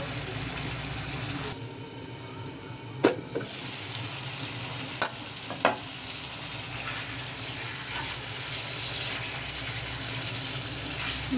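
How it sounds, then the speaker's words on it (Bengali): Fish sautés in a pan with a steady sizzle and scraping stirs from a spatula, with a few sharp metallic clinks against the pan breaking the continuous frying hiss. "মাছটা একটু ভালো করে কষায় নিচ্ছি।"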